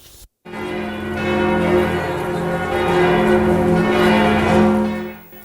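The church bells of Notre Dame Cathedral in Paris ring loud and near, their overlapping strikes merging into a sustained, humming wash of tone that swells and holds for several seconds before fading.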